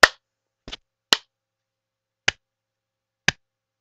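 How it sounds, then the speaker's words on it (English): Five sharp, isolated hand claps spaced slowly and unevenly, a deliberate slow clap during Portal 2 play, crisp and close against silence. "This is my slow clap."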